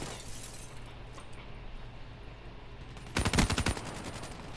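A rapid burst of sniper rifle shots in Call of Duty Black Ops III multiplayer, a loud close volley of sharp cracks lasting about half a second over quiet game ambience.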